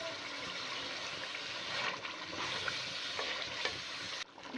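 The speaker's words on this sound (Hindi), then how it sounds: "इसको अच्छे से भून लेंगे।" Three quarters of a kilo of greens for sarson ka saag being sautéed in a pan, giving a steady close sizzle and frying hiss with occasional stirring scrapes, with no talk.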